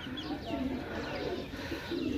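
Soft, low pigeon coos repeat in a gentle rhythm against a steady background hum, fairly faint and a little distant.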